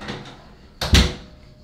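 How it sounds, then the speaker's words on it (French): A bathroom door swings shut with a firm thud and latch click, loud and close, following a brief softer rustle of handling; no one speaks. "on ferme la porte."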